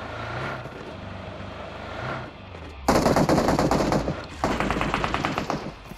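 Rapid automatic gunfire from an Android shooting video game, with a softer stretch of shots followed by loud, dense bursts of rattling fire that continue to the end.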